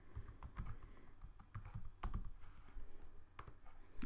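Fingers type alternate text on a computer keyboard: irregular, close-up clicks and short bursts of keystrokes, with no voices.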